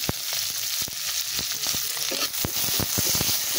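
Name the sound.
onions frying in a pan over fried puti fish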